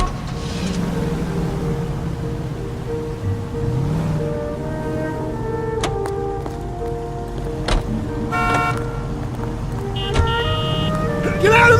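A commandeered car driving in the video game LA Noire, a steady engine drone with horn toots and sharp clanks over it, under game dialogue.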